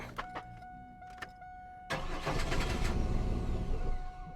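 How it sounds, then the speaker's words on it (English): Chevrolet Camaro engine being cranked over: a few clicks and short bursts, then the starter catches into a rough steady engine run, close and moderately loud, with no talking. "So let's try to crank this over again."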